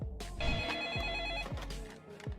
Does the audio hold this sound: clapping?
no